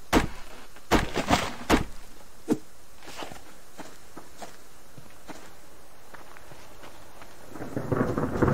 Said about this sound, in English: Sounds like we're gonna get a nice little storm.